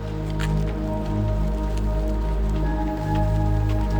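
Rain falls with icy wind on a mountain trek near Gangotri glacier, a steady hiss of drops and patter mixed with a low constant rumble, close and moderately loud throughout.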